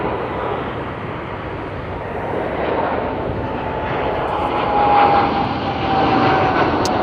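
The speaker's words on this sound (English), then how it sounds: "There goes the Singapore 777 freighter." A Singapore Airlines Boeing 777 freighter jet roars past at LAX, a broad, loud, steady engine rumble that swells slightly as the aircraft moves by.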